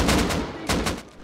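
Automated turret in the video game Rust fires rapid bursts, loud and close, in two quick volleys separated by a brief pause.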